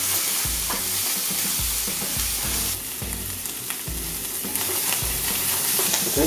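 Tomatoes cook in a pan for seafood pasta, a continuous sizzle and frying hiss with repeated scraping stir strokes in an uneven rhythm, close and fairly loud.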